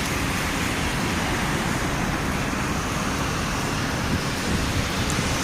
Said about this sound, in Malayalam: അങ്ങനെ ഞങ്ങളുടെ ബന്യാസിലും നല്ല മഴ പെയ്തു.